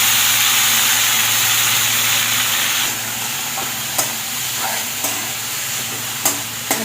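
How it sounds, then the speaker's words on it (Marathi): Dill greens drop into hot oil with fried green chillies, a steady loud sizzle that softens as the leaves settle in, with a few sharp spatters and stirring taps near the end. "आता मिरचीमध्ये डिरेक्टली लगेच ही भाजी टाकते मी"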